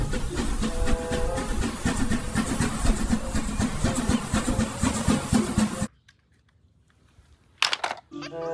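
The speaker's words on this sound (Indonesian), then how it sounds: "Wow, ini ada kereta Thomas teman-teman." A Thomas the Tank Engine toy train gives off a loud, rumbling, chugging mechanical noise for about six seconds before cutting out abruptly. A short sharp burst follows near the end.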